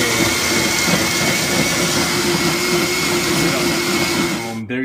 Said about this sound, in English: Let's put the lid on the blender